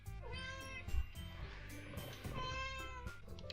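A house cat named Lotus meows indoors, a few close, drawn-out cries with a faint murmur of room sound around them.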